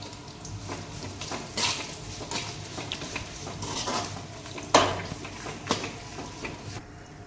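Stirring ground masala paste into fish curry in a pan, with steady scraping and soft sizzling, a few sharper clinks of the spoon against the pan, close and continuous.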